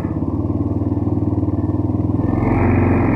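Danish ATV engine idling and growling steadily at close range, a low throbbing pulse with a slight rise in level near the end.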